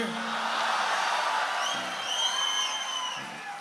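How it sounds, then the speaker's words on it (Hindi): An audience at a Hindi comedy poetry show cries out and whoops in a loud, sustained burst of crowd noise, with voices rising and then fading toward the end. "कई लोगों की चीख निकल गई"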